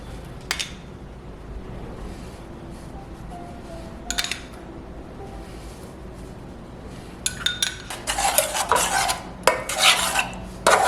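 A spoon stirs yogurt into a spice masala in a pan with the flame off, cooking Kashmiri aloo dum. Faint scraping runs throughout, then louder clinks and rasping scrapes of metal on the pan cluster near the end.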